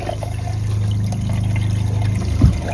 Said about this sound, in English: So we will test that by turning on some faucets.